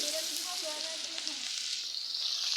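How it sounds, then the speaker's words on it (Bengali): Potatoes frying in oil left over from frying fish give off a close, steady, hissing sizzle that runs evenly through the whole short stretch. "এখন আমি এই মাছের তেল দিয়েই আমি আলু কীভাবে ভাজি করি"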